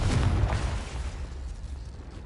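A Confringo blast spell explodes in the Hogwarts Legacy video game, giving a loud, deep boom at the start that settles into a rumbling, crackling tail lasting a couple of seconds, with no talking.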